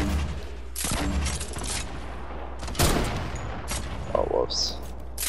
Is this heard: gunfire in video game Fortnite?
yes